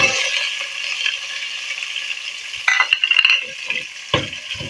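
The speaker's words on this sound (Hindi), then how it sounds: "प्याजों को हम फ्राई कर लेते हैं।" Chopped onions frying in ghee for stuffed bitter gourd, a steady close sizzle with occasional scraping and stirring clatter from a spoon in the pan, no voices.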